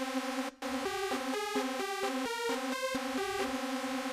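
A bright, buzzy supersaw lead from a Roland System-1 synthesizer plays a stepping melodic phrase of sustained notes, loud and close and heard alone, after a brief gap near the start.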